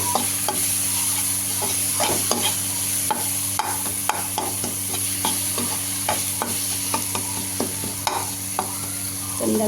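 Tomato kuruma masala, with ground coriander and chicken masala added, being stirred and sautéed in a pan: steady loud sizzling and frying with repeated scraping and clinking spoon strokes throughout.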